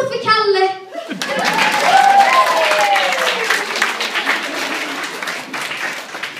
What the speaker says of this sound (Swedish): En applåd för Kalle!